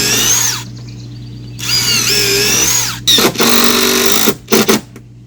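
Screws driven into a pool deck with a power drill: several whining bursts of the motor spinning up and driving in, stopping and starting between pauses, close and loud.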